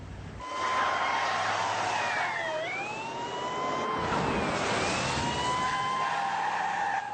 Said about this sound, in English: Where's the siren on this thing?